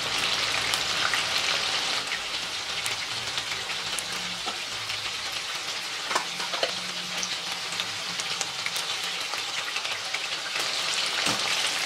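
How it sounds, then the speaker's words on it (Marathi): Prawns fry in a pan for prawn chilli, giving a steady close sizzle with occasional crackles and light stirring clinks, with no talking. "साधारण 4-5 मिनिट लागतात आपले प्रॉन्स व्यवस्थित शिजायला."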